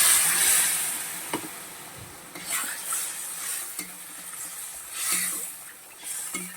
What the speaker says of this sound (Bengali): নাড়াচাড়া করে নিলাম